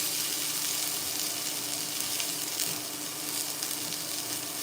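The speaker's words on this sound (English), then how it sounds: "Onions, peppers, going in." Onions and peppers sizzle steadily in a hot frying pan as a cheesesteak filling cooks, giving a continuous, close, even hiss with faint stirring clicks and no talking.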